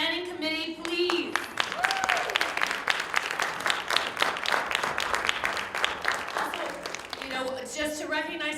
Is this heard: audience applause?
yes